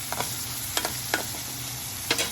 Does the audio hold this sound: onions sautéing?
yes